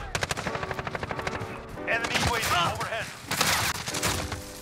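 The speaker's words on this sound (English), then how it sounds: "Oh, he's shooting bodies." Rapid automatic rifle fire from a Grau 5.56 in Modern Warfare rattles in a fast burst at the start, followed by further bursts and game effects, with excited voices talking over the shooting.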